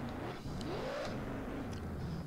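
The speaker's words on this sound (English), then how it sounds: "You can hear the engine trying to speed up when I lift off." Engine note from a car in the Drift Crew driving game, its pitch rising and falling in a smooth sweep as the revs climb after lifting off, steady and close with no other sounds.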